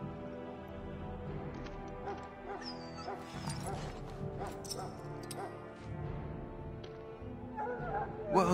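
A sick hound whines and yips in the Dragon Age: Origins video game, thin high cries rising over a steady game soundscape with music and voices, ending in a brief louder burst.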